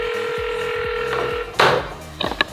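A phone line plays a steady dial tone while short keypress beeps are dialed to place a sales call, followed by a louder burst of noise and a few brief clicks.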